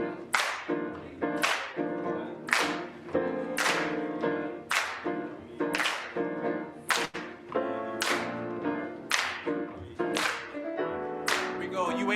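An audience at a church gathering claps along to a song on beats two and four, giving sharp, loud, evenly spaced claps roughly every second over a steady musical backing.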